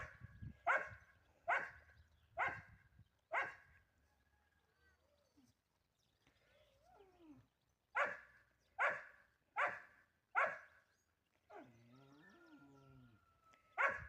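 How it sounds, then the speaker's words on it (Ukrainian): A dog on a small Ukrainian homestead with rabbits and goats barks in sharp repeated bursts, a group of four, a pause with softer whimpering sounds, then another run of four barks, fairly close and clear. "Він гавкає."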